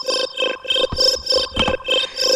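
A chiptune arpeggio synth preset plays a bright, buzzy pattern of rapid repeating notes in pulsing bursts, loud and close and alone, with no talking over it.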